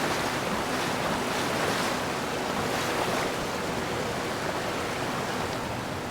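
Steady broadband wash of water waves in the video game Avowed, continuous surf-like noise with a faint wind hiss, fairly loud and even throughout with no talking.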